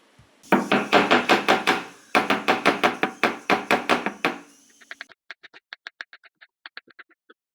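A voice rhythmically imitates knife chopping for several seconds, then a knife chops onions on a board in a quick series of crisp, light taps, close and clear with no talk.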